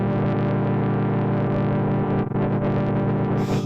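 A guitar plays through a thick, buzzing distorted interference effect from a Hologram Chroma Console pedal that smears the notes into a constant loud wash, with no voices.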